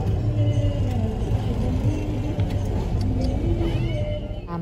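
Steady road traffic in Fort Kochi during a festival: car engines rumbling and revving close by, a continuous dense drone with passing vehicles and no talk.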